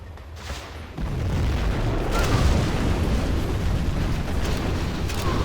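A nuclear missile detonates in a real-time strategy video game on a frozen canyon map, a loud, sustained rumbling roar that swells after a sharp onset and keeps thundering for several seconds.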